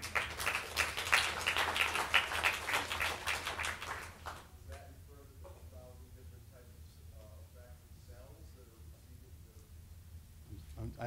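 Lecture audience at a talk on the molecular mechanisms of olfaction breaks into brief applause, a few seconds of moderate clapping that quickly dies away into quiet room noise with faint voices.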